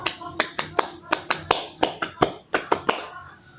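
A group performs the Indonesian tepuk semangat spirit clap at a school-versus-college orientation session, sharp unison hand claps landing in a patterned rhythm with short pauses, close and crisp over a quiet background.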